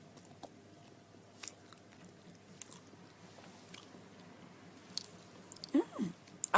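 Someone eats a snack with sangkhaya custard filling at close range: soft, scattered bites and chewing, quiet at first, then a few louder crunchy, moist bites near the end.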